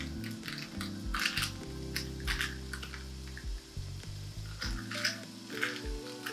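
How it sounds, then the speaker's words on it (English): Finely cut pancetta frying and crisping in a pan for pasta carbonara, a quiet crackling sizzle with irregular pops and spits beneath a low steady hum. "while your pancetta is frying up and getting crispy just like bacon"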